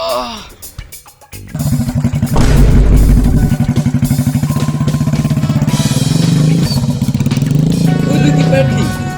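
A run-down old motorcycle engine thumps along in a fast, rough, loud rhythm after a brief start, chugging steadily with a few clattering knocks, with voices talking nearby.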